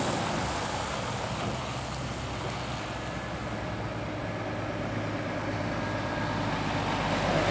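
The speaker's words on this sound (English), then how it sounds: "You can hear the exhaust brake working away there on the Scania as she comes in." Scania truck rolling in on the A14 near Rothwell with its exhaust brake working, a steady loud engine roar and low rumble throughout, no speech.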